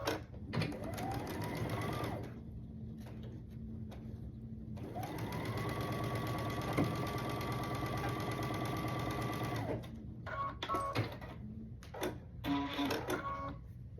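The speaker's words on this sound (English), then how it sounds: "the next step would be to sew these two here. So I'll sew them." A sewing machine stitches quilt block pieces for a Sunbonnet Sue block in two steady runs, a short one and then a longer one, with a clear, close mechanical whir and brief clatter between runs.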